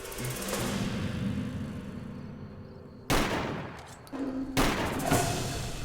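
Shotgun blasts in the video game Fallout New Vegas, a few loud sudden booming shots separated by gaps, over a low steady game background.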